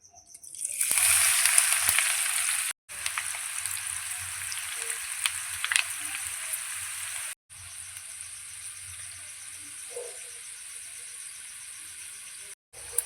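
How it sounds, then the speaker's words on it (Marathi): Okra (bhendi) sizzles steadily in hot oil, a dense crackling fry that runs close and continuous for the whole stretch with a few short breaks. "तेल छानपैकी गरम झालेलं आहे. आता यामध्ये आपण भेंडी ॲड करणार आहोत."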